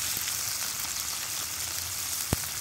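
Adobo-marinated spicy chicken wings with skin frying in hot oil, a steady crackling sizzle with dense spatter and one sharp pop near the end, close and without any voices.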